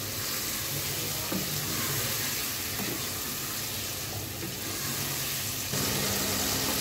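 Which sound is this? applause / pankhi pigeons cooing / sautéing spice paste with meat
sautéing spice paste with meat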